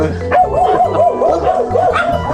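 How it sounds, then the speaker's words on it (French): Several dogs barking and yelping angrily at close range, rapid overlapping bow-wow calls in quick bursts, loud and near. "Ils m'ont tous aboyé."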